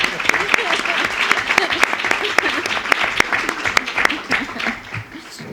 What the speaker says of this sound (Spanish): yo le daría un aplauso, de verdad, porque se lo merece